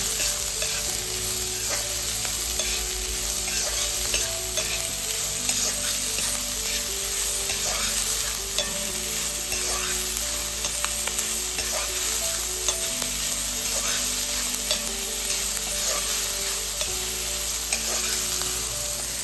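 Guar beans thoran for Onam sizzles in a pan, a loud continuous frying hiss with frequent soft scrapes and taps of a spoon as it is stirred, with a steady hum underneath.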